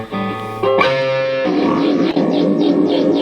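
An Ibanez RGKP6 electric guitar through a tube amp plays a distorted chord that rings out, then another is struck and sustains with gritty, saturated tube overdrive, loud and close.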